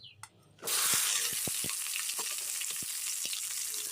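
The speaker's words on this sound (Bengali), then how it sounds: "এবার যে ঢ্যাঁড়সগুলো কেটে রেখেছিলাম সেই ঢ্যাঁড়সগুলো কড়াইয়ের মধ্যে দিয়ে দিচ্ছি" Cut okra dropped into hot oil in a wok bursts into a loud, steady sizzle that continues, with occasional light clinks of stirring.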